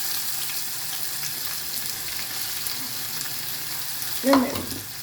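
Steady sizzling of spices frying in a hot pan, with a brief clatter of stirring near the end.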